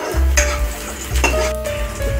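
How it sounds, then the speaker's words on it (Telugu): Chopped onions and green chillies hit hot oil in a pan with a loud, steady sizzle, stirred with a utensil that scrapes and clinks against the metal a few times; no voices. "ఆయిల్ వేడెక్కాక తరిగి పెట్టుకున్న ఆనియన్స్ అండ్ పచ్చిమిరపకాయలు వేసుకోవాలి."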